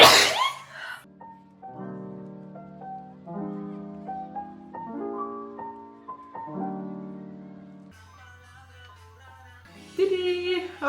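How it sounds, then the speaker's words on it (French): One sharp, breathy sneeze bursts out at the very start, then gentle tonal music takes over for the rest. "Et je vais éternuer."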